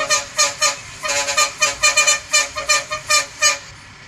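A bus horn in the video game Bus Simulator Indonesia toots again and again in quick, rhythmic bursts, loud and close, about a dozen short blasts in a row.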